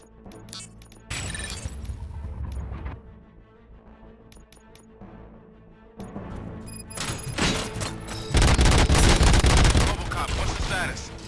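Bursts of gunfire in the video game Robocop: Rogue City, with rapid volleys and booms rising into a loud, dense barrage near the end, while voices talk between the shots.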